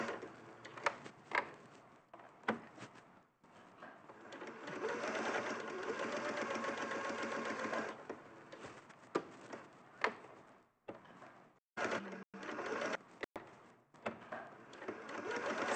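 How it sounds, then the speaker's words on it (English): A sewing machine stitching a straight seam along a marked line on a fabric panel, running in sustained bursts of rapid whirring punctuated by short pauses, clicks and thumps, close and moderately quiet. "you're just stitching straight on the line"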